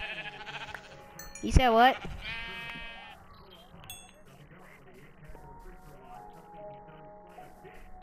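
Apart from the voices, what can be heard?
sheep bleating in Minecraft video game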